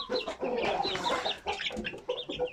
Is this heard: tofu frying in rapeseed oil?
no